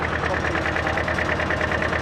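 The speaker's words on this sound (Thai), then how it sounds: "เครื่องยนต์แบบติดนุ่มๆเลยนะครับสองตูบ" A Yanmar YM 2007 engine idles smoothly, a steady close mechanical chugging with an even rhythm and no other sounds.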